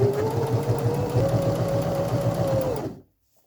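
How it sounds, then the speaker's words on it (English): A sewing machine runs steadily while stitching pillowcase fabric, a fast, even mechanical whir with a rising hum, heard close up and alone before it stops abruptly. "as you're feeding it through the machine, let the machine take the material instead of pushing it"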